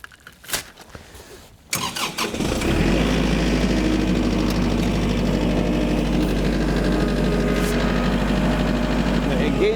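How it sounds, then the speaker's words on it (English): A tractor pulling a Land Pride RCR1872 rotary cutter starts up: a few clicks and a short crank, then the engine catches and settles into a loud, steady low idle that runs on. "So I'm going to start my tractor up here,"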